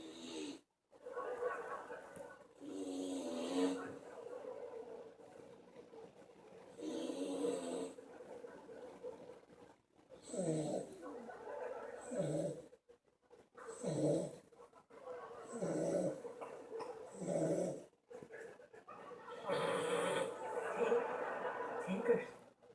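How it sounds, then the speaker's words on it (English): A purebred bulldog snores in repeated rough, rhythmic breaths at a show, with people talking and chuckling over and between the snores. "Now let's see Tank snore."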